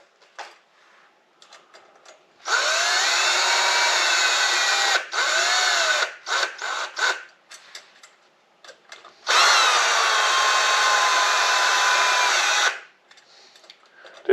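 Power drill spinning nipples onto the spokes of a motorcycle wheel during lacing, two long loud steady whirring runs with short bursts and stops between them, close and alone.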